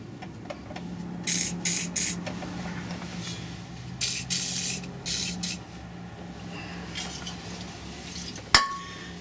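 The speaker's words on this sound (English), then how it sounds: "let's give this a little bit of lubricant." Lubricant sprays in several short hissing bursts onto the rear shock bolts of a 1961 Ford F100, close and fairly quiet. Soft clinks and handling noises fall between the bursts, and one sharp knock comes near the end.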